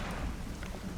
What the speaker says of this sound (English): Ooh, I hear that thunder rumble.